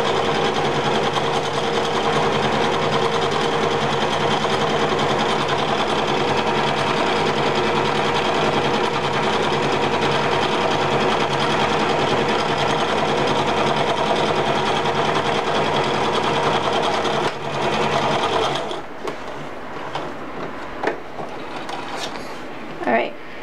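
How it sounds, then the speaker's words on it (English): A sewing machine stitches around the edge of a fabric dress-up apron, a steady rapid mechanical whir running continuously for most of the time before stopping, after which only faint handling sounds remain. "you sew all, like, both together, you sew all the way around"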